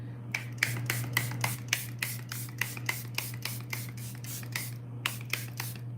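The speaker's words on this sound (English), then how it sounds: "I'm gonna take my Charlotte Tilbury spray and spray the face" Charlotte Tilbury setting spray pumped onto a face in quick repeated bursts, about a dozen close, sharp hissing spritzes in a steady rhythm with a brief pause before the last few, over a low steady hum.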